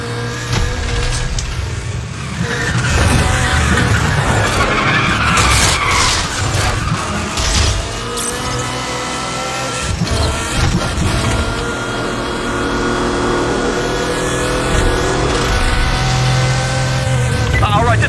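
Street race cars in a video game skidding and revving, tire squeals and engine drone rising and falling under radio-style voices talking throughout.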